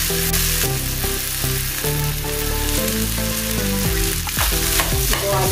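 Boiled potatoes go into a pan of hot oil with fried green chillies and are stirred and mashed by hand, giving a steady close sizzle with stirring scrapes throughout.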